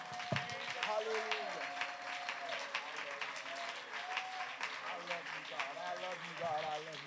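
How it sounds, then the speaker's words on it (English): Church congregation clapping hands together during a Sunday morning service, a dense, steady burst of applause mixed with cheering voices and a held tone underneath. "Would you clap your hands?"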